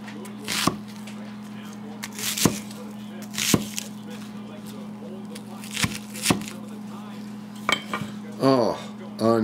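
A C3 Knives Bush Hawk hatchet chops onion and vegetables on a kitchen board, sharp thuds landing singly and in pairs at irregular intervals over a steady low hum, while someone talks.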